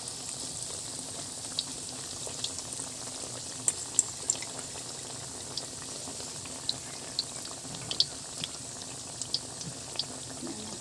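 Battered banana fritters deep-fry in hot oil, a steady soft sizzle and bubbling broken by faint scattered pops and crackles, with no voices over it.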